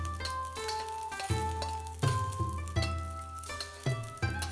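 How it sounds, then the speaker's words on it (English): Chopped garlic and scallion sizzle in hot oil in a pan as they are stirred, a steady close frying hiss broken by metallic clinks of the utensil against the pan, with a low hum underneath. "Put in some chopped garlic and scallion. We're gonna stir this around until the scallion and the garlic become golden brown."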